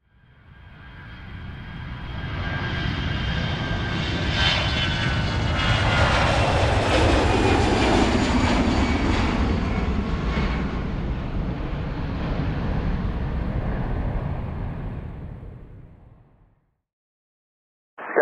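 Southwest jet aircraft with its left engine damaged by a severe bird strike, several blades destroyed: a loud, sustained roaring whine that swells, holds for about fifteen seconds and fades to silence.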